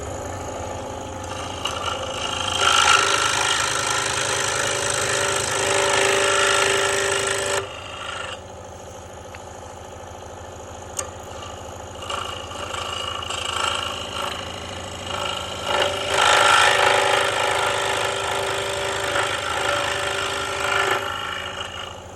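A CNC router whines and rasps through wood in two long, loud cutting passes, with a lower motor hum idling between them.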